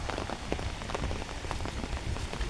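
Steady rain pours over rice fields, a dense patter of drops on surfaces at an even level throughout with no voices.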